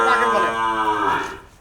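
A dairy cow with four teeth, at a cattle sale in Kachua, Chandpur, lets out one long, loud, close moo. The call sustains and slowly falls away with no other sound.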